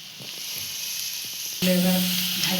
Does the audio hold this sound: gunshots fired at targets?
no